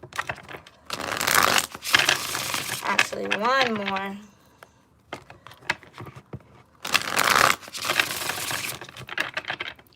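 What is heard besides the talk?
shuffling tarot cards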